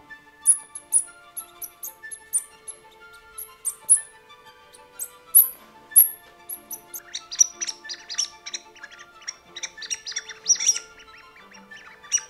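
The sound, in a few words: fox lure imitating mouse squeaks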